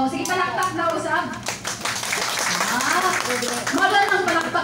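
A training presentation audience claps together in a brief rhythmic burst, with a voice speaking over and between the claps.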